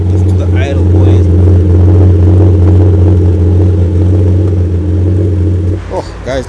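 A steady, low BMW car engine idle rumbles close by for several seconds at a BMW meet, with faint talk in the background, then cuts off near the end.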